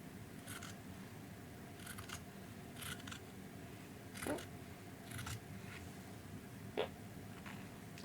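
Scissors cutting fabric make a series of soft, crisp snips, about eight in all, spaced irregularly over a quiet room hush with no talking.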